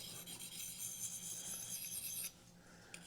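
A blade is stroked across an Arkansas whetstone in a continuous, quiet, close rasping rub that stops abruptly after about two seconds.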